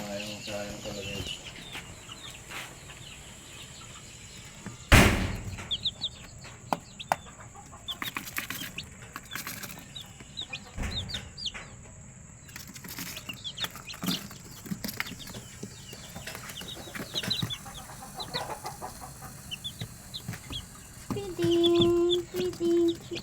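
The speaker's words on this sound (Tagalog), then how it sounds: "Feeding, little chicks." Young chicks cluck and peep while pecking at feed, with frequent soft calls and scratchy pecking close by, a sharp knock partway through, and people talking intermittently over the birds.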